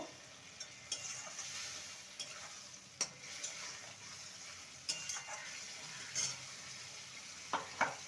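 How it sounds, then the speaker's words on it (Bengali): A paste of mustard, poppy seed and green chilli fries in a pan for shim paturi, a faint low sizzle broken by scattered soft stirring knocks and scrapes. "সেই মশলাটা দিয়ে দেবো ভালো মতো কষিয়ে নেব"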